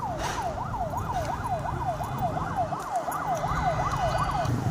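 A wailing ambulance siren cycling rapidly up and down over traffic noise at a crash scene, loud and close, repeating steadily throughout.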